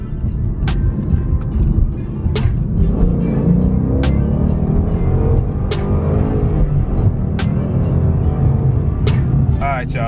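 A 2015 Ford Mustang GT Premium, S550 generation, is driven; a steady low engine and road rumble fills the cabin throughout, with a few brief clicks and no speech.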